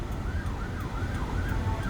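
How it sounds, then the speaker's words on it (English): An ambulance siren wails in a steady rising and falling pattern as it passes, moderately loud above a heavy low rumble of traffic and wind. "Let this ambulance go by real quick."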